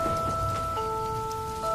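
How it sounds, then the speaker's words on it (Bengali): Heavy rain in an animated Bengali horror story pours as a steady, dense hiss, overlaid by sustained musical tones. "আর দেখতে দেখতেই কিছু সময় পর থেকেই মুষলধারে বৃষ্টি শুরু"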